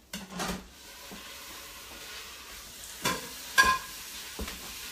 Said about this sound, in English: we put in about a pound of ground beef, and we're just going to let that brown up in the butter